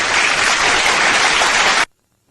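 A stock applause sound effect of a crowd clapping and cheering, loud and dense, cutting off abruptly into silence.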